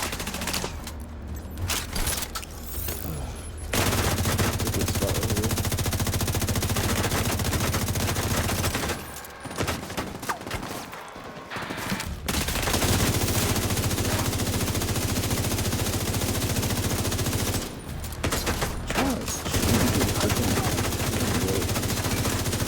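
Sustained automatic gunfire in the Division 2 shooter game, loud and continuous in long bursts with a few short breaks, dense battle noise throughout.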